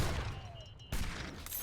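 Musket volley from a real-time strategy video game battle against an Italian army, a dense crackling burst of shots that drops off, then a second sharp volley with rattling echoes.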